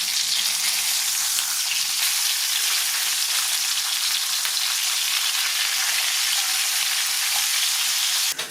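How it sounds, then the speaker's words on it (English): Double lamb saddle chops fry in a hot pan, giving a steady, loud, dense sizzle that crackles evenly throughout with no voices. "I'll lay down the chops and let them cook on each cut edge for about 5 minutes"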